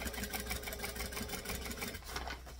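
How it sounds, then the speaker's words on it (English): A sewing machine runs at a slow, steady pace while stitching a beach bag around a curve, giving a quiet continuous mechanical whir with faint rhythmic clicking throughout and no talking. "So I'm stitching slowly around the curve"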